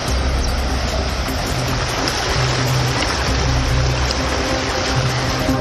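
Floodwater of the Thamirabarani river in Tirunelveli district rushes after heavy rain, a loud, steady, broadband roar of churning water that holds without pause throughout.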